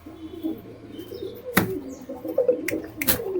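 An aggressive pigeon held in the hand gives low cooing notes and soft rustling, broken by a few sharp wing flaps or slaps near the close.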